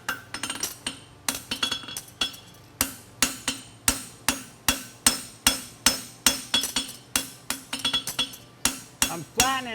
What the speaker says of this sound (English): you can see we're gonna come in and forge this way, flatten it up, make everything nice